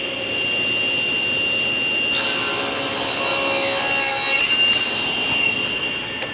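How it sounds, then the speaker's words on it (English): A wooden board is sawn on a miter cut guided by a miter gauge: a steady, close rasping whir of the blade through the wood, growing louder and brighter midway, with no talk. "I'm just going to start mitering one end of each one"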